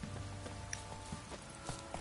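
Horse hooves clip-clop in The Witcher 3, a steady run of close, light hoof beats over a faint game background with no talk.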